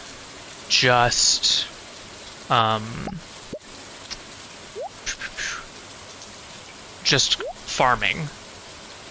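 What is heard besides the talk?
rain in video game Stardew Valley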